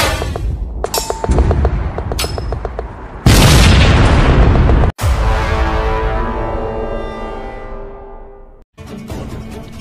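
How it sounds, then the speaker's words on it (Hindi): A cannon fires its first shot in a dramatized siege of Constantinople, a series of loud booming blasts with long crackling, rumbling decay, set among other sharp impacts and broadband bursts, with no talk. "तोप का पहला गोला चलाया गया।"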